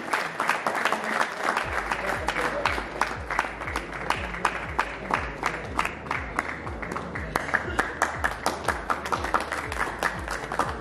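An audience claps steadily for about eleven seconds at a cricket shirt launching ceremony for the Markhor Super League's second season, a dense round of applause with a few louder sharp claps standing out.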